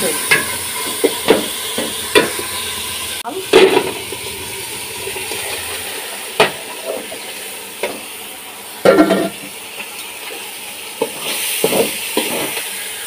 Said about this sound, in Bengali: তো এটা এখন ভাজা ভাজা করে নেব।